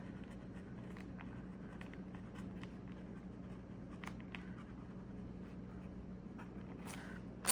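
A fountain pen scratches across paper with faint, intermittent strokes over a low steady background hum, close and quiet, ending with a brief louder rustle.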